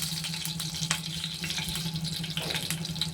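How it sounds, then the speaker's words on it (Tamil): Mustard seeds are dropped into hot oil in a pan for a Tamil watermelon kootu tempering, giving a steady, close, hissing sizzle with faint crackles throughout. "இப்போ கடுகு போட்டுக்கிறோம்"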